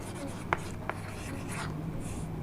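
The word chocolate being written on a board during a lesson, a few short scratchy strokes and taps over faint room noise.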